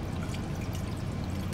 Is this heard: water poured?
yes